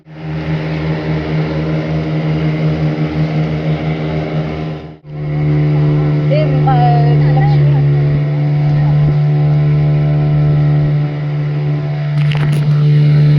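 A motorboat engine drones loud and steady during a boat ride at Pondicherry, with a brief dip partway through, and faint voices now and then over the engine hum.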